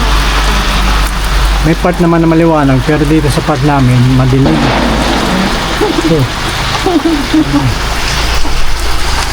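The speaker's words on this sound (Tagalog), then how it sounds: "Nag-uulan pa, lumakas na oh." Heavy rain falls steadily and noisily during a motorcycle ride on a road in Leyte, with a low engine rumble beneath it. Someone talks over it for much of the time.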